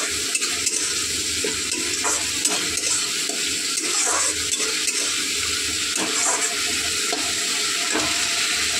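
Spice masala frying in a pan with a splash of water, a loud steady sizzle under repeated scraping strokes of a spoon, close and continuous with no voices.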